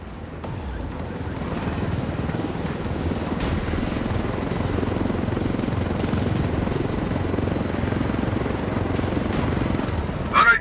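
A helicopter in a PC video game gives a steady, loud, low rotor drone that builds and holds throughout. Brief sharp cockpit or game sounds appear near the end.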